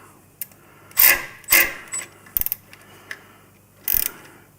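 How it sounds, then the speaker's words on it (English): A 4mm Allen bolt being snugged up on a Ciro light on a Harley Road Glide motorcycle: a few close, loud ratcheting clicks in short bursts separated by quiet pauses, with no talking. "the new Ciro bolt is a 4mm Allen, so we're just going to snug that up"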